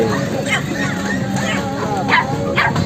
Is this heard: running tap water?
no